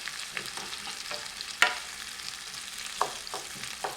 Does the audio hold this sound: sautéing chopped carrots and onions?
yes